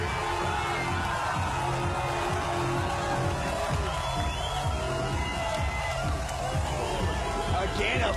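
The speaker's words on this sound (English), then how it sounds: "the crowd is going bananas here in Jakarta" A packed arena crowd roars and cheers continuously after a hometown fighter wins an MMA bout in Jakarta, a dense, sustained wall of crowd noise.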